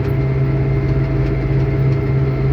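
Deutz tractor diesel engine running steadily while driving at around 45 km/h, a loud, continuous low drone with a constant hum and no pauses.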